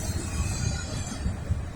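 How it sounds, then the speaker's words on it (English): An eastbound Norfolk Southern freight train rolls past a rail yard, producing a steady, close, low rumble with a faint rhythmic thump of wheels throughout; no one speaks. "there's the end of the train right there"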